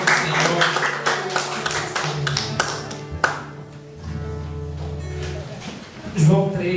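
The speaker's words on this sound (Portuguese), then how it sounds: "Aplauda bem forte ao Senhor." A church congregation at a Brazilian evangelical service claps loudly together to the Lord, a dense, fast run of claps up close that thins and fades partway through, with voices talking over it.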